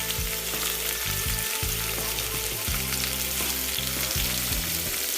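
Onions sizzle and fry in hot soybean oil in a pot, a loud, steady crackling hiss with bursts of popping as they are stirred, close and without voices.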